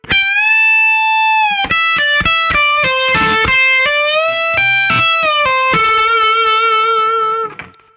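Electric guitar playing a solo lick: a long bent note held at the start, then a quick run of picked and bent notes, ending on a sustained note that fades out. Clean and close, with no talk.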